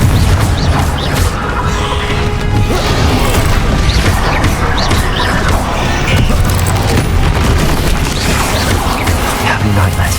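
Bombarda and Confringo spell explosions from the video game Hogwarts Legacy, a steady barrage of loud booms, smashes and crashes running the whole time, with a voice speaking over the blasts.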